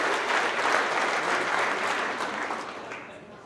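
Audience applause in a company meeting for a trucking firm's October driver of the month, a dense, steady wash of clapping that holds strong then slowly tapers toward the end.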